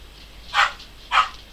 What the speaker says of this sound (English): Yes, Suzanne, tell your puppy to be quiet.